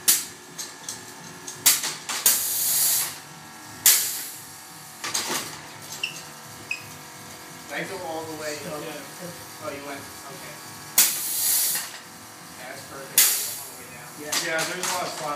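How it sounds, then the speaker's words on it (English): Pneumatic intake on FRC team 2168's competition robot actuating, with several sharp hissing bursts of air venting at intervals, while people talk nearby. "All right, pneumatics test."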